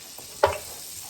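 Kerrygold butter in a pan gives one short sizzle as it is swirled, a brief crackling burst over quiet room tone.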